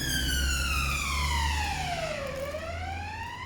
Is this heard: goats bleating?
no